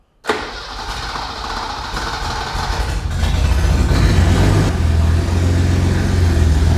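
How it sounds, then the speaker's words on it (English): A BMW E21 323i engine fires up and runs with no exhaust fitted, a very loud, raw roar that starts abruptly and grows heavier and deeper after a few seconds of steady running. "Let's see how it sounds without the exhaust."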